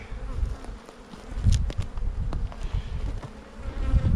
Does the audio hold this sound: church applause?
no